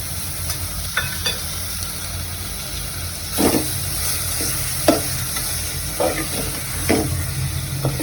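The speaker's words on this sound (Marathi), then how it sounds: "आता यात आपण जी मॅरिनेट केलेली कोलमी आहे ती घालून घेते" Marinated prawns sautéing with spices in a pan, a loud continuous sizzle broken by repeated scraping stirs of a spoon, under a low steady background hum.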